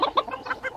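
A chicken clucks close by in a quick run of four or five short, bright clucks with no other sounds around it.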